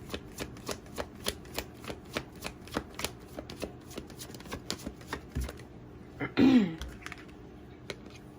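Tarot cards shuffled over and over in a steady, close rhythm of crisp riffles, with a brief louder scuffle near the end as the deck slips.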